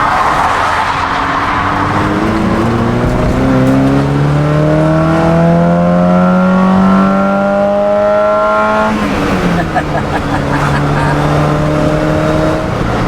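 A vintage 2002 car cruises at about 55 mph near 3,100 RPM, its steady engine drone rising through the gears with a shift around nine seconds, loud and continuous with no talk.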